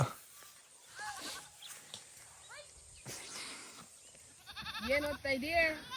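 Goats and sheep grazing in a village setting, with several short wavering bleats scattered through the clip and clustering louder near the end, over faint outdoor background noise.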